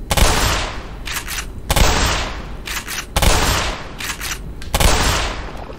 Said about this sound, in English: Let's try a shotgun.